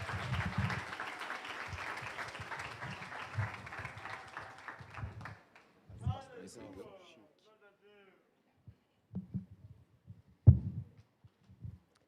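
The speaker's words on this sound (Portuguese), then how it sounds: "Vamos recebê-lo aplaudindo ao Senhor." Applause in a church service, moderate and steady for about five seconds before fading out, followed by quiet gaps with a few scattered claps and someone speaking.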